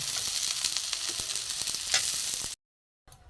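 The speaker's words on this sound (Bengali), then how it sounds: "আমার উচ্ছে ভাজা হয়ে গেছে লাল করে" Bitter gourd frying in mustard oil, a bright close sizzle with crackling spatters and light stirring clicks, cutting out briefly near the end before resuming faintly.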